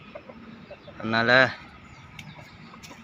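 Chickens, including a sick hen, give a short, loud clucking call in a farmyard, with someone speaking quietly and faint bird sounds in the background.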